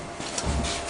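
A hand saw cuts wood at a workbench with a short, steady rasping stroke, close and fairly loud, and no voices.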